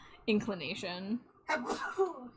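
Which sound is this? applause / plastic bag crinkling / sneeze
sneeze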